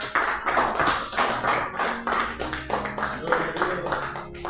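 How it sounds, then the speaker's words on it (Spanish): Congregation clapping for the Lord during a Spanish-language church Bible class, loud and rhythmic with overlapping claps and voices mixed in, sustained throughout. "Dan un fuerte aplauso al Señor"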